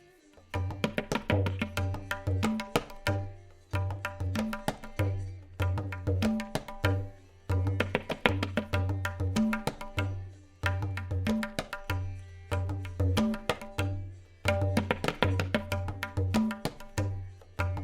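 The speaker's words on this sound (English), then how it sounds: "So the lehera might sound like this." Tabla strokes ring out in a lively repeating lehera cycle, crisp high slaps over deep resonant bass strokes, played alone in steady phrases.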